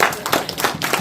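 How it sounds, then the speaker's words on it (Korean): Audience at an urban regeneration policy forum clapping, a short burst of close, loud, uneven handclaps. "이 불쌍한 사람들 박수 한번 쳐주세요."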